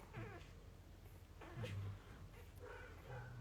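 Newborn puppies whimper and squeal softly in a few short, thin cries, close by with a low background hum; the litter's mother is recovering from a C-section.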